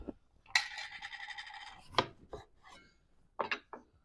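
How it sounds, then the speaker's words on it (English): Freshly grated Parmesan cheese rasped on a hand grater: a few separate scraping strokes, one long stroke followed by shorter bursts, close and fairly quiet with pauses between. "For our Parmesan, you want freshly grated Parmesan"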